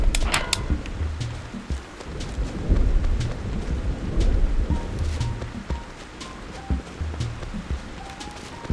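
Thunderstorm weather in the video game Animal Crossing: steady rain patter with low rumbling thunder rolling through, a continuous soft wash with brief brighter bursts near the start.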